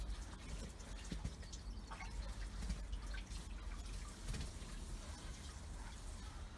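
Water pours steadily into a Lay-Z-Spa inflatable hot tub as it is refilled after a clean-out, a continuous close splashing and trickling with dripping sounds and no talk.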